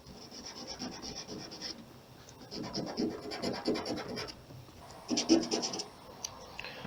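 Quiet rubbing and scratching strokes come from sanding a rust spot on a car body by hand with 800-grit sandpaper. The short, irregular passes are close but soft.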